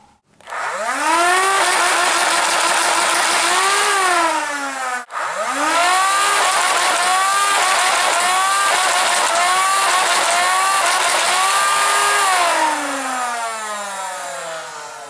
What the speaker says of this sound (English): this gun is shooting a lot better than its stock form